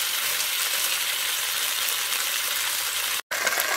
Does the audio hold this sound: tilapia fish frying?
yes